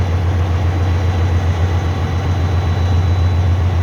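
The engine of a 2004 Freightliner truck idles right after its first start following repair, a loud, deep, steady rumble held close by for the whole stretch without changing pace, and nobody speaks.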